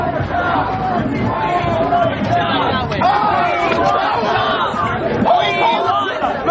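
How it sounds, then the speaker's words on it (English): Protest crowd of occupiers gathered on the steps of the US Chamber of Commerce on K Street, a loud, close babble of many voices chattering and calling out continuously. "Crowd swarms back on the Chamber of Commerce."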